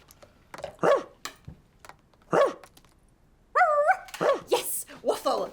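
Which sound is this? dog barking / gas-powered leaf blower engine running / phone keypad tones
dog barking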